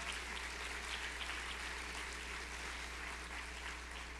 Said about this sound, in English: Round of applause for the panel here today.